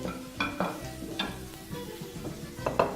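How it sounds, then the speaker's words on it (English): Bouillon-based Spanish sauce simmering and sizzling in a pan, a steady bubbling hiss with occasional scraping stir strokes close by. "So we're just going to let that simmer for a little while."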